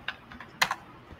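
Typing a Linux command on a computer keyboard gives a short burst of a few close, crisp keystrokes with a quick double tap in the middle, otherwise quiet.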